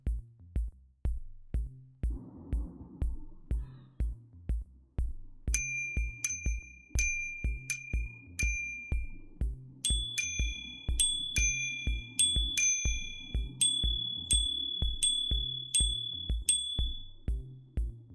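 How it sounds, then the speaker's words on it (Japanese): A minute repeater watch mechanism strikes hours, quarters and minutes on two gongs: a steady ticking low beat underlies clear bright chimes, first single tones in a series, then paired high-low strikes, then single tones again, close and clean. "ミニッツリピーターは1時間、15分、1分の3つの音を2つの鐘を使って表します。"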